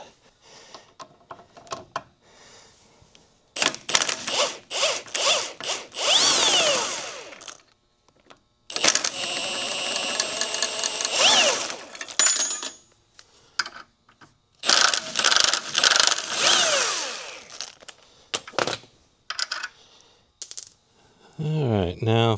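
A ratchet and power tool work a suspension U-bolt loose, sounding as bursts of rapid metallic clicking and whirring that start and stop several times, close and loud, with quiet gaps between them.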